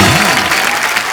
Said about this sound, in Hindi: हमारे सारे चैंपियंस के लिए जोरदार तालियां।